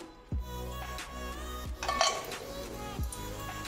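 Whole spices stirred in hot oil in a kadhai, with a few metallic knocks and scrapes of a ladle against the pot over a soft, low sizzle, close and intermittent.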